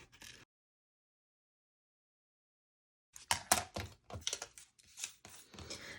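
Fine point scissors snipping paper in quick irregular bursts of crisp cuts, close up, after a brief snip and about three seconds of silence.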